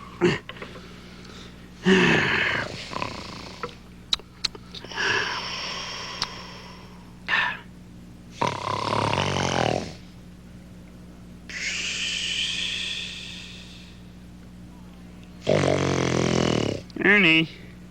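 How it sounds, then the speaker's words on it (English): Ernie, the Sesame Street Muppet, snoring while asleep in bed: several loud, drawn-out snores in separate bursts of about one to two seconds, with gaps of quiet between them. "Ernie, you're snoring."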